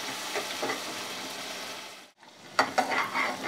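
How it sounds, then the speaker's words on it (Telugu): Onions frying in a pan for a fish curry, a steady loud sizzle with scraping stir strokes, a brief pause, then renewed stirring clatter. "ఈ ఉల్లిపాయలు కూడా బాగా వేగించాలి."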